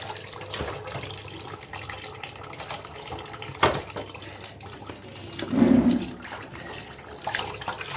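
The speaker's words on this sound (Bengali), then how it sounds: "আমি প্রত্যেকবারের মতন মাছগুলো ধুয়ে নিচ্ছি" Whole fish being washed under a running tap, with a steady splash of water and a few louder gushes and knocks along the way.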